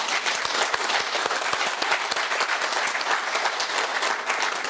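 Sustained applause from a conference audience honouring the event staff, many hands clapping in a continuous crackling wash, moderately distant and without speech on top.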